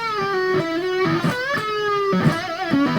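Full lick on overdriven electric guitar, played solo: wavering bent notes with wide vibrato, pull-offs and quick string changes flowing in a continuous three-second phrase.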